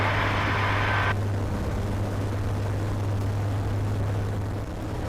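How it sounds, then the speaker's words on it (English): A Eurofox microlight aircraft climbs after a go-around from a farmer's grass strip, its engine droning steadily and loudly from inside the cockpit, with a brief higher hiss at the start. "We've just taken off from your mate's field."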